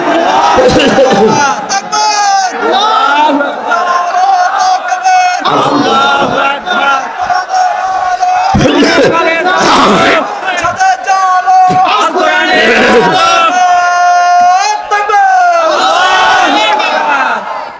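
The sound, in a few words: crowd responding to a takbir call at a religious rally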